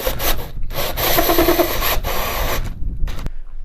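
A continuous rasping, rubbing cut through an RV wall panel for about three seconds, loud and close, then stopping abruptly into quiet.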